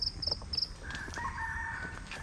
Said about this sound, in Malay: ayam pun dah berkokok. Ayam dah berkokok.